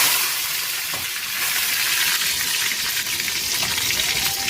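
Curry leaves hit hot oil in a pan and set off a loud, continuous crackling sizzle, heard close and alone without talk.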